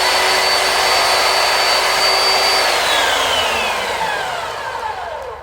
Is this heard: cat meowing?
no